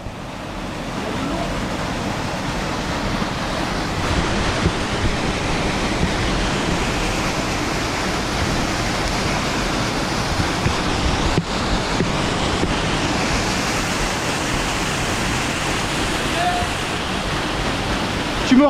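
Rushing water fills a canyon in the Turzon gorge, Ardèche: a steady, loud, broadband roar that runs unbroken throughout with no clear pauses.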